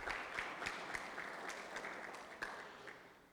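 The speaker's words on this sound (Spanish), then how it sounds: "podemos aplaudir a las 2 contribuciones ahí" Faint, distant applause from a church lecture audience, steady irregular clapping at low volume throughout with no speech over it.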